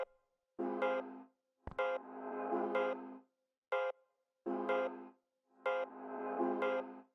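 Crystal percussion samples in a melodic techno track sound as a run of short bright tonal hits with shimmering upper partials, separated by silences and one sharp transient click, loud and alone with no talk.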